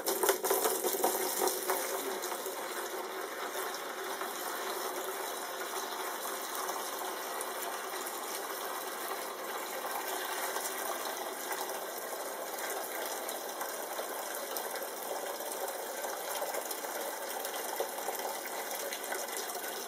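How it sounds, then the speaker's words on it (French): Four litres of petrol poured into a container while preparing two-stroke fuel mix for a moped or scooter; a steady, continuous liquid rush runs unbroken for about twenty seconds, with no talking. "Donc je vais verser mes 4 litres d'essence."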